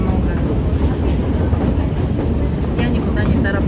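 Moscow metro train rumbles loudly and continuously, a dense close roar of rolling carriages filling the whole stretch with faint squeals near the end.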